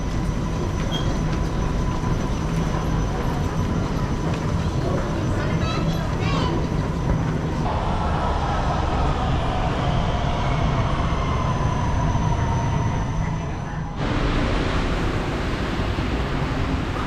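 Underground LRT train in Malaysia riding between Ampang Park and Pandan Jaya stations, a steady loud rumble of wheels and motor throughout with shifting tones and a sudden change in texture near the end.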